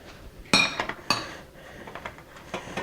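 Utensil clinking against a bowl while milk is beaten, sharp metallic taps at an uneven pace, two louder strikes followed by lighter scrapes and clicks, close and fairly quiet with no talking.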